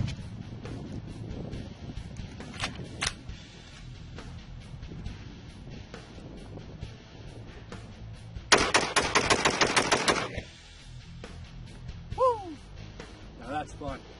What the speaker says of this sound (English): I am gonna rapid fire an AR-15.